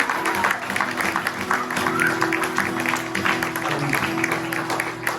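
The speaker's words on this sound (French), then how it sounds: "Est-ce qu'on peut applaudir Nadia Giroux?" A church congregation claps together during a worship service, moderately loud and steady for several seconds, with a low sustained musical tone under the clapping.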